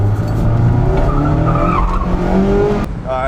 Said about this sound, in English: as you can see with my 91 Miata, I like doing little baby two-wheel burnouts when I can